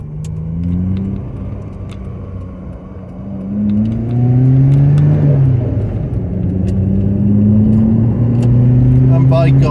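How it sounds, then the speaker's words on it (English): A small Rover Metro car drives along a road, its engine close and loud as it pulls and revs up through the gears, pitch climbing steadily with each surge. "go for a little drive of my little beast of a Metro"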